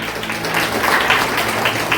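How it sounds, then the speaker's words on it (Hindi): A church congregation at a Sunday service applauds steadily, a dense sustained wash of many hands clapping together throughout, with no voices standing out. "जोरदार ताली बजाइए परमेश्वर के लिए"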